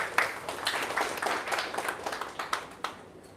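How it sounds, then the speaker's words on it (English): Applause rises at a company townhall. Many hands clap in a dense, moderately loud patter that fades out over a few seconds, with no talk. "big round of applause to her"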